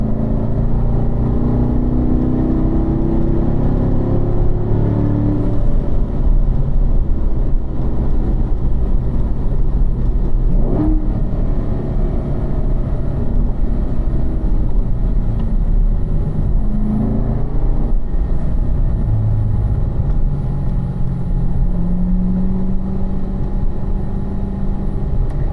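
Cars lapping a racetrack at a performance driving school, a continuous loud engine drone with rising and falling revs throughout, no talking heard over it.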